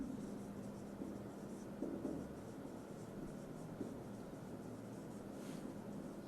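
Marker or chalk moving across a board in a matrices lecture, a faint, close sound of intermittent strokes and taps over steady background hiss, with no talking.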